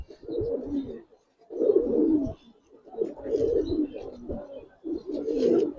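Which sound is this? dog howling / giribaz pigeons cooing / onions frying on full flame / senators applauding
giribaz pigeons cooing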